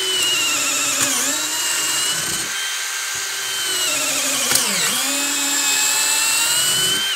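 Metabo 12V PowerMaxx cordless drill with a 3/8 inch chuck, drilling with a loud high whine that dips in pitch twice as it bogs under load, heard up close.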